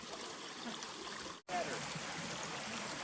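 Water flowing steadily at a stream crossing on a forest trail loop in Roosevelt National Forest, a continuous close rushing burble with one brief dropout partway through.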